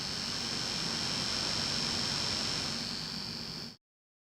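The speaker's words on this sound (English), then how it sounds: "remember, my air conditioner is running" An air conditioner and a fan run together in a room, producing a steady broadband whooshing hiss with a faint high whine and low hum, even and continuous until it cuts off abruptly.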